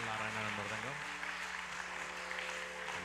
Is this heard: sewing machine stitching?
no